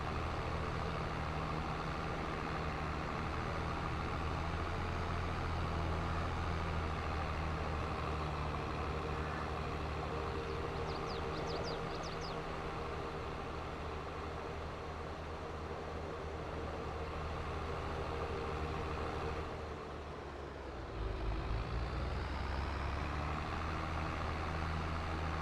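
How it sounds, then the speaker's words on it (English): Tractor engine in a farming video game, a steady low droning rumble that runs almost without change, briefly dips near the end and then resumes at full strength. "The sound is just right. I can just hear the tractor."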